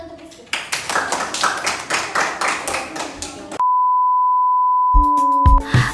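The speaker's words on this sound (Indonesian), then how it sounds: "tepuk tangan dulu untuk Rizky." Children in an elementary school classroom clap in brisk, lively applause for about three seconds, which ends abruptly in silence, then a steady electronic beep tone follows along with a few scattered sounds.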